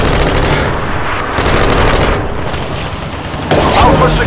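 An AC-130 gunship firing in Call of Duty: Modern Warfare 2, heard as loud, continuous rapid gunfire and heavy booms filling the scene, with game voices underneath.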